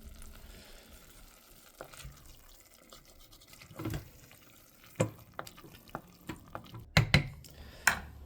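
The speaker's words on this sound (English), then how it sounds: "Look at that bubbling." French onion soup bubbles slowly in a crockpot: scattered soft pops and wet blips, sparse at first and then quicker and sharper, over a quiet background hiss.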